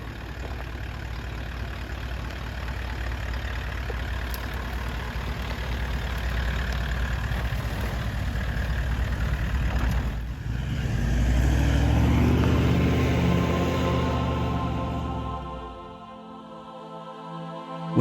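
A 4WD engine in low range first gear crawls down a steep track in the Flinders Ranges, a steady low rumble that swells and deepens midway before easing off near the end.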